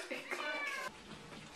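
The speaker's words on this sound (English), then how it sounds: "She's meowing." A cat gives a drawn-out meow followed by shorter, softer mewing sounds, close by.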